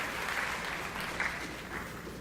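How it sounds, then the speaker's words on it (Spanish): An audience claps steadily to welcome a doctor taking the stage at a scientific talk, a dense even patter of hands filling the room with a few louder bursts and no voices over it. "Las palmas de todos nosotros son muy fuertes para recibirlo"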